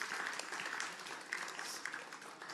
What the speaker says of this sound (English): Let's clap our hands for Aldi.